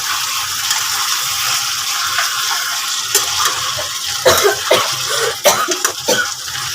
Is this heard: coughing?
yes